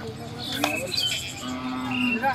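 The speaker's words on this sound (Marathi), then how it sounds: "करंट वासरू आहे मित्रांनो, एकच नंबर करंट वासरू आलेले आहेत" A calf at a sale of racing bullocks lets out a short low moo, then a longer drawn-out moo, close by, with faint bird chirps in the background.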